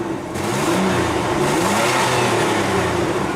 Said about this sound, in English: it just has a wee little bit of a rough idle